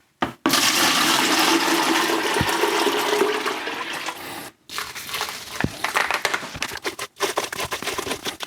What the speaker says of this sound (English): Now I'll rinse this out really quick